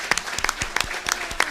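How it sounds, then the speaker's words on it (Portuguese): Scattered claps from a small group at a council plenary meeting, a handful of distinct hand claps in uneven rhythm, fairly close and moderately loud, with no voices over them. "pedir uma salva de palmas de todos para o Allen"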